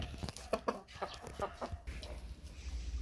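Backyard hens cluck in short, close bursts while following their keeper across a farmyard on a warm day, with a low rumble of background noise underneath.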